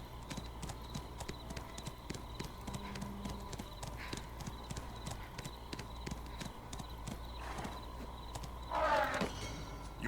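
Horse hooves clip-clopping in Black Desert Online, a steady stream of rapid, quiet footfalls on a hard surface beneath a low ambient game hum, with a brief louder burst near the end.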